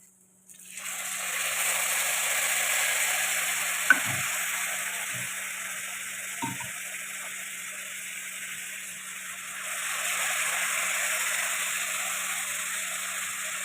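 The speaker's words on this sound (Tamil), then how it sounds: "நம்ம அடுத்து புளி தண்ணி ஊற்றணும்" Tamarind water poured into a hot pan for puliyodharai, giving a steady, moderately loud sizzle and frying hiss that runs for most of the clip, with a few brief stirring clinks and taps and no talk.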